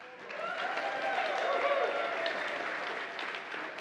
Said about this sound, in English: why are you clapping so much?